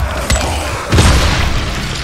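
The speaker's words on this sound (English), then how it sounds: "Meledaknya ada dua" Two heavy booms from explosions in the video game Dying Light, a short thud followed by a louder, rumbling blast that fades slowly, with no talking.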